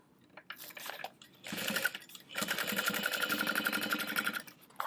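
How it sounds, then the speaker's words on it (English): A sewing machine stitches down one side of a fabric bag, running in short quiet bursts before a steady, rapid mechanical whir for the last couple of seconds. "And we're going to sew down one side."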